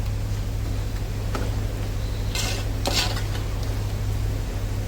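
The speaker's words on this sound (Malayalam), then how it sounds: "ചിക്കൻ ചേർത്ത് കൊടുത്ത് ചിക്കൻ നന്നായിട്ടൊന്ന് ഇളക്കി ആ ഗ്രേവിയിലേക്ക് നമ്മളൊന്ന് ഇളക്കി യോജിപ്പിച്ച്" Fried chicken being stirred into curry gravy in a pot, giving a steady low simmering hum with soft scraping swishes of a spoon and a couple of brighter scrapes near the middle; no voices.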